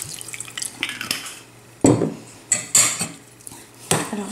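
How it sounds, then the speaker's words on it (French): Egg yolks, sugar and orange blossom aroma mixed in a bowl with a utensil: light clinks and scraping taps arrive in irregular bursts, close and fairly soft, with a few sharper knocks against the bowl and no talking. "Alors je mélange comme ça dans un premier temps"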